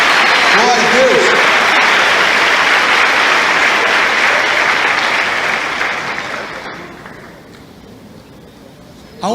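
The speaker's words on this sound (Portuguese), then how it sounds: "Você pode aplaudir a Ele por isso?" A church congregation applauding, loud and dense clapping that fills the room, with a brief voice near the start, then gradually fading away toward the end.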